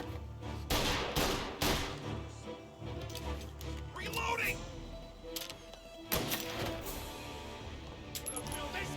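Gunshots in the video game Mafia: Definitive Edition, several sharp cracks spaced through a busy scene of music and ambience, with a voice speaking in between.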